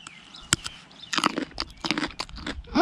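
Someone bites and chews a crisp, sweet watermelon, producing close, wet crunches in an irregular series, with a louder bite at the end.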